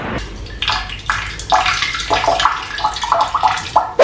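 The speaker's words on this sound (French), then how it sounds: "Mais avant je vais aller pisser un coup." A man urinating outdoors in Morbihan, Brittany: a steady splashing trickle of liquid hitting water, close and fairly loud, running with uneven surges through about four seconds with no talking.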